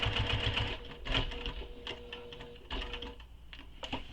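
A sewing machine runs in bursts as it stitches across a quiver sling, its rapid mechanical whirr and needle clatter stopping and starting several times, close and fairly loud with no talk.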